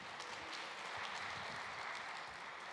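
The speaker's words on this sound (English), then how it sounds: "Can I have a big round of applause for Eric?" An audience at a Metaverse talk applauds, a dense, steady patter of many hands clapping together that holds at an even level throughout.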